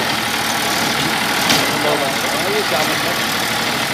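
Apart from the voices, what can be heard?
Massey Ferguson 241 DI tractor engine running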